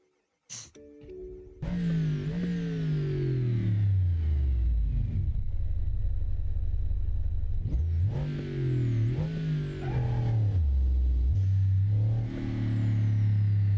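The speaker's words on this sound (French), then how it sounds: "Ah, essaye de démarrer, le démarreur électrique." A car in BeamNG, its hood torn off after a crash, clicks as the electric starter engages, then the engine catches and idles loudly before revving up and down in repeated surges, close and dominant, with no voices.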